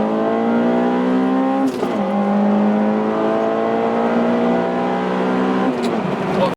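Acura RSX Type S with aftermarket exhaust accelerating hard, a loud raspy engine note climbing steadily in pitch through the gears with two brief shift breaks, heard from inside the car.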